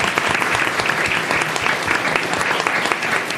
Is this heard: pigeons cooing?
no